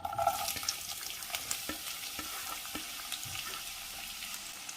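A medium onion, sliced, frying in melted ghee in a pan, giving a soft, quiet sizzle broken by light stirring clicks and scrapes at an uneven rhythm.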